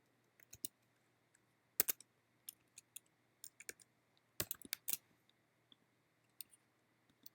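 Sparse, quiet keystrokes on a computer keyboard, scattered single taps and small clusters over a near-silent background with a faint steady hum.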